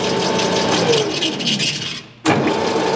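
An Oster revolving die head threader's motor hums steadily, cuts out for a brief moment of near silence, then starts up again in reverse at the same steady drone.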